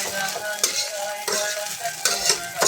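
Stir-frying rice in a hot pan: steady sizzling with repeated scraping strokes of a spatula, close and fairly loud, no voices.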